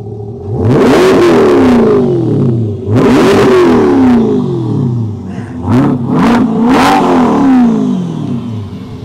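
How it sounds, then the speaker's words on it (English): A 2021 Corvette Stingray C8 engine revs hard in three or four loud, close bursts, each rising and falling in pitch, with shorter blips near the end. "Madison, rev the engine for me, sir."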